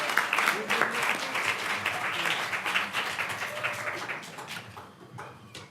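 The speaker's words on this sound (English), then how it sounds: "So let's give Susan a huge round of applause." Audience applause fills a room at a cannabis event aboard the Queen Mary, a dense, steady clatter of many hands that stays loud for several seconds before easing slightly, with voices mixed in underneath.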